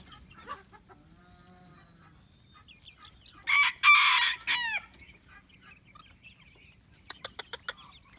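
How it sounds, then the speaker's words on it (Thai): Free-ranging backyard chickens in the morning, including laying hens, black-boned chickens and Betong chickens. A loud rooster crow bursts out midway, followed by a quick run of short clucks against a quiet outdoor background. "นี่จะเป็นไก่ไข่นะครับ แล้วก็นี่ไก่ดำตัวสีขาวไก่ดำนะครับ"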